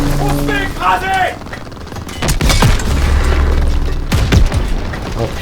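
An enemy Panzer tank is destroyed in a World War II video game, with heavy booming explosions and scattered gunfire crackling loudly while voices talk over the battle.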